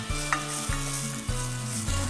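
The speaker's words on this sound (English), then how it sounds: "I'm gonna saute this until it's really nice and fragrant and aromatic" Garlic, shallot and grated ginger sauté in sesame oil in a pot, with a steady close sizzle punctuated by several rhythmic thumps and scrapes as the mixture is stirred, and nobody speaking.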